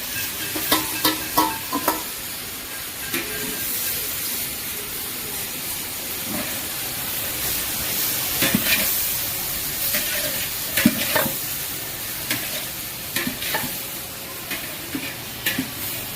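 Onions, tomatoes and green chilies sauté in a pan for a hotel-style parotta salna, giving a steady close frying hiss broken by scattered scraping and tapping as the spoon stirs through, with no talking.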